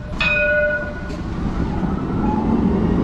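A tram runs along its tram line in Istanbul, a loud steady rumble up close with a short high bell-like tone near the start, heard without talk.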